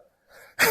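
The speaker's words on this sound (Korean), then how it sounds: "기침이 계속 나와." A single harsh cough from someone with a cold bursts out loud and close after a short stretch of breathy throat noise.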